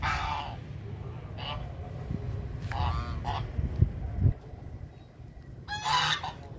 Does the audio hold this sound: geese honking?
yes